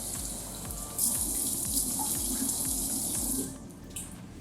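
Water running from a tap into a sink while a face is rinsed, a steady close rush with a rhythmic pulsing flow and splashing as hands move under the stream, stopping near the end.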